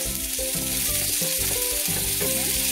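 Chopped onions sizzle and fry steadily in a hot pan with bay leaf and a piece of cinnamon, a close, continuous crackle with some stirring.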